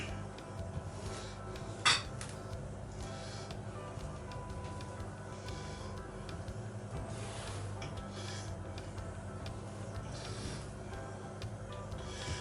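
A spatula sweeps and scrapes through génoise sponge batter in a bowl, soft repetitive rubbing strokes with faint knocks against the bowl over a constant low background hum, one sharper clink early on.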